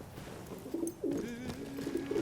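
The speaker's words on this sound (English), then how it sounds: "Here's one of the pigeons!" A pigeon coos in the video game Battlefield 1, with a few soft rising and falling coo notes close by over a low ambient game background.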